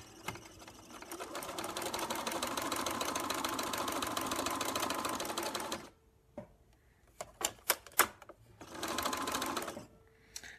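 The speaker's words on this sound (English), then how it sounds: "let's do that on the sewing machine." A sewing machine stitches two fabric pieces together in a steady, fast whirring run for several seconds, then stops, followed by a few short clicks and a brief final burst of stitching.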